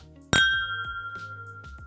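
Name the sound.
glasses clinking in a toast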